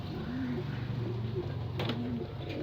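Soft, low cooing from domestic racing pigeons, a few repeated rolling calls with a steady murmur of other birds behind them, fairly close.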